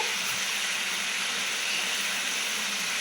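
Fish curry broth for a Bengali mustard hilsa dish boiling hard in a pan, a steady, loud, broadband hiss of steam and bubbling with no break, nobody talking.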